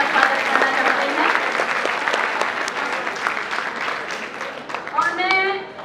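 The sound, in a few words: audience applause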